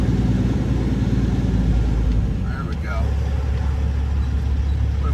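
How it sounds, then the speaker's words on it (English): A flatbed truck loaded with fire hydrants rumbles past with a low, heavy engine drone, followed closely by a couple of other trucks in steady traffic, loud and close throughout. "Flatbed coming by with a bunch of fire hydrants on it, and then a couple other trucks"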